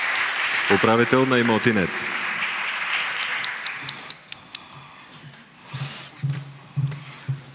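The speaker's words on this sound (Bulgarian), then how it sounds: "Аплодисменти отново за госпожа Стойчева." Audience clapping at a real estate awards ceremony, starting under an announcer's voice and continuing as a loose, moderately loud patter with scattered sharper claps.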